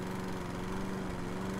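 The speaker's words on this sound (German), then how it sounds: "kann auch hier den Rasenmäher benutzen" A lawn mower in the game House Flipper runs with a steady, droning engine hum that holds level and unbroken throughout, loud and close with no voices over it.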